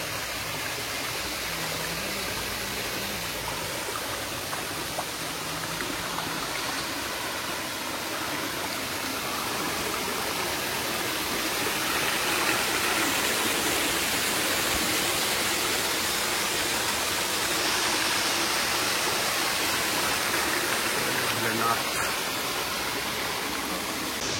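Jungpana waterfall near Kurseong in Darjeeling rushes steadily, a broad, even hiss of falling and flowing water that continues without a break, with no talk heard.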